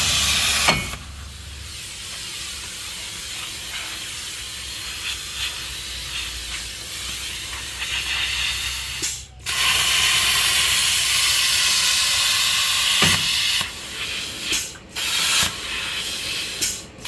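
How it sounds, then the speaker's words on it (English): Plasma cutter slicing through the suspension of an International 4900 truck with a DT466 engine, a steady loud hissing roar lasting many seconds with a few brief breaks and restarts. "He's just going to plasma cut off the suspension instead of trying to get the rusty bolts out."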